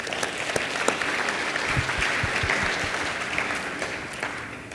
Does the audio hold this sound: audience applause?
yes